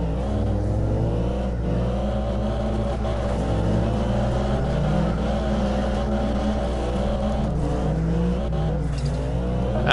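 Several cars drift in tandem in the racing game CarX Drift Racing Online, engines droning loud and steady with overlapping revving tones and sliding tire noise throughout, no talking.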